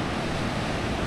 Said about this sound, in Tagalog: Open sea guys. Pacific Ocean.